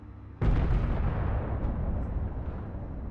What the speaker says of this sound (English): It fires a lovely projectile which leaves a smoke trail behind.